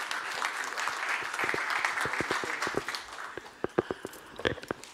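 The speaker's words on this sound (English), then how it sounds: "A big round of applause for my great team here." A conference audience in London claps in a steady round of applause that thins into scattered individual claps toward the end.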